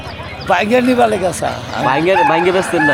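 Chickens cluck and a rooster calls close by at a village market in Nalitabari, mixed with people bargaining over them in a busy, noisy setting.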